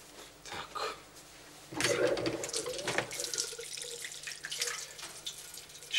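Tap water runs into a child's bath, a steady gushing stream that swells louder midway and continues with splashing, with faint indoor shuffling and dripping at the start.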